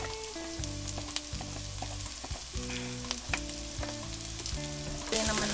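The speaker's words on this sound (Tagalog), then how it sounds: "Yan, may bawang na akong naluluto na." Garlic sizzles steadily in a hot pan, a constant close frying hiss with occasional stirring scrapes, over soft background music and no talk.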